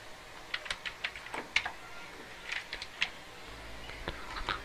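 Quick, uneven taps on a computer keyboard, typed into a web browser, close and moderately loud in short bursts with no talking.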